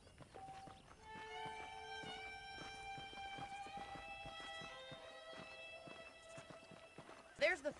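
Horse hooves clip-clopping at a walk in the western video game Red Dead Redemption, steady soft thuds under sustained game music, with a short whinny near the end.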